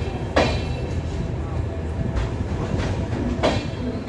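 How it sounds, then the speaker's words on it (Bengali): A train rolls into New Jalpaiguri (NJP) railway station with a steady, loud rumble of wheels and carriages, broken by a few sharp clunks and bangs of rail joints and couplings. "ট্রেন ঢুকে গেল এনজেপি স্টেশনে।"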